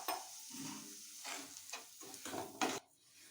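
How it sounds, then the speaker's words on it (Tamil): Semolina is stirred while it roasts in ghee in a pan, giving soft, close scraping strokes with a faint sizzle beneath, several distinct stirring swipes in an uneven rhythm, quiet and with no voice. "அதுலேயே போட்டு ரவை போட்டு வறுத்துக்கலாமுங்க"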